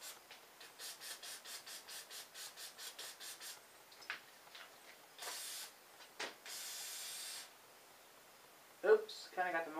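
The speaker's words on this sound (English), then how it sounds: "spray a little bit of brake cleaner on that, I guess." Aerosol brake cleaner hisses in short bursts onto a saw in a workshop, with a quick rhythmic series of sprays followed by longer blasts, while someone talks around them.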